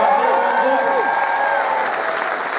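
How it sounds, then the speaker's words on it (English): Steady applause from a crowd, a dense wash of clapping with some cheering voices mixed in, fairly loud throughout. "A round of applause for Andrew Agnew."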